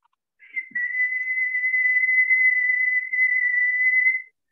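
A single sustained whistle, a steady high pitched tone held for about four seconds, clear and close in an otherwise quiet space.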